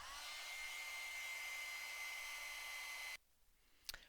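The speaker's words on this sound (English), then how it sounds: "So I'm going to take my heat gun and dry this up." A heat gun drying acrylic paint blows a steady, loud, whining roar for about three seconds, then cuts off abruptly, leaving a quiet room and a single soft knock.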